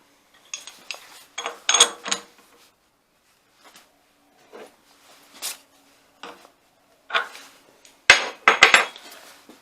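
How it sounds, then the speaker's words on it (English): A nut held between steel parallels is tightened for an angle grinder nut build, giving sharp metallic clinks and scrapes in short scattered bursts with quiet gaps between, close and moderately loud. "Tighten the nut."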